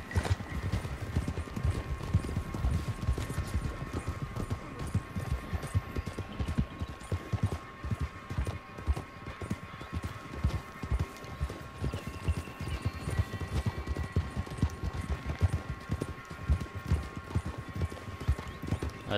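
Horses galloping in the Red Dead Redemption 2 Online video game, a steady rapid clip-clop of hooves running throughout with occasional faint whinnies and little else over it.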